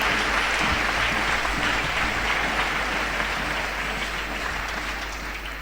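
A church congregation applauds loudly and steadily during a broadcast worship service, continuous clapping that holds for several seconds and tapers slightly at the end.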